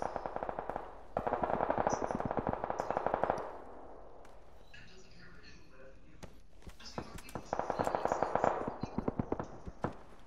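Bursts of rapid automatic gunfire in PUBG crackle in two long volleys separated by scattered single shots and footsteps, with a voice speaking over them.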